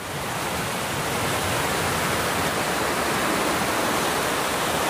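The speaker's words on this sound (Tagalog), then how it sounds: "dito tayo dumadaan sa Sapa na malakas ang agos po mga kabayan" A strong-flowing forest stream rushes in a dense, continuous roar of water, loud and close without breaks or voices.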